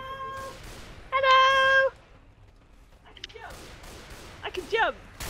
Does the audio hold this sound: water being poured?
no